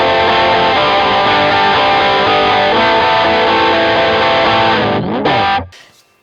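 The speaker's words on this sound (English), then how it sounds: "The patch B for the blues pedal, the gain is all the way up." An electric guitar plays a loud, gritty distorted riff with bluesy bends through a blues distortion pedal with gain all the way up, ending in a slide down before cutting off.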